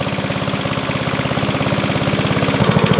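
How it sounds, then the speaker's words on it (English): A lawnmower engine runs with its blades spinning, a loud, steady pulsing drone with a quick regular beat that grows slightly stronger toward the end, heard up close with no talking. "The lawnmower has started."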